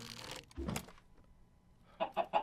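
Minecraft chicken clucking in short bursts, a few soft calls near the start and three quick evenly spaced clucks near the end, moderately close with quiet gaps between.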